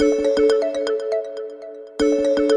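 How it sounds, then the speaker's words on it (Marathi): A phone ringtone chimes loud and close in a looping electronic melody, pauses briefly, then starts its tune again, with no voices over it. "एके दिवशी डॉक्टरांचा फोन वाजला."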